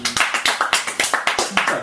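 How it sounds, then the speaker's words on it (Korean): A small group claps hands together in a quick, even burst of about a dozen sharp, close claps. "박수 한 번."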